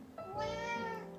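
A cat lets out a single long, drawn-out meow, soft and nearby, with no other sounds around it.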